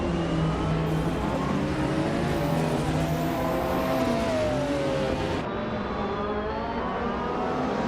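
A 1992 Cizeta Moroder V16T race car in a racing game, its engine droning close and steady with rising and falling whine as it accelerates, alone without voices.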